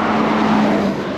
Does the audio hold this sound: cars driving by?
yes